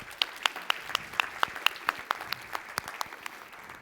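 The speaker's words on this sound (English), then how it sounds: "I just want you to take a moment and applaud the incredible work that's been done" A conference keynote audience applauds, with crisp individual claps sounding fairly close in a loose, steady rhythm that thins out slightly toward the end.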